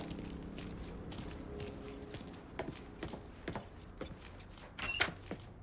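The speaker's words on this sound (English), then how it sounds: "Lincoln, pick up the keys." Keys picked up in the Mafia 3 video game, a light metallic jingle of a few soft clinks near the end amid a busy in-game background.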